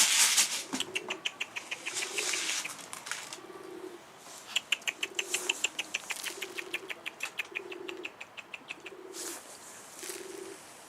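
Pigeon wings flap in repeated bursts among soft pigeon coos, with rapid fluttering clatter rising and falling close by throughout.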